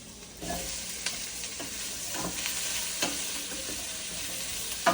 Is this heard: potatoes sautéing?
yes